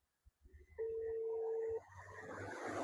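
A telephone placing a call gives out a single steady electronic tone lasting about a second, clear above faint low background noise, with no talking.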